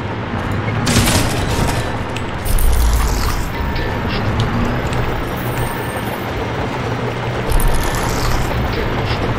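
Gunfire and booming explosions rattle through a Crysis Remastered battle against a KPA armor division, with dense bursts of shots and heavy rumbles layered over continuous combat noise.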